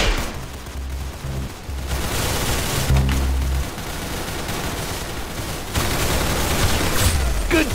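Gunfire crackles through a round of the video game Arsenal, with dense, rapid bursts and booming shots layered into a loud, continuous barrage that barely lets up.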